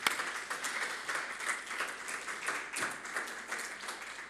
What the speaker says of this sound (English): you deserve an applause from everyone.